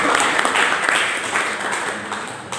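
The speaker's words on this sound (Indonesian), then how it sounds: "Kita kasih aplaus dulu kepada 3 pemateri kita." Audience applause at a talk show for three speakers, a steady dense wash of clapping filling the room, loud and continuous for a few seconds.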